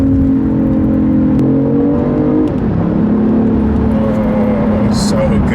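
Car engine revving hard through a tunnel, loud and close with a booming, echoing roar that rises and shifts pitch as it accelerates, continuous throughout.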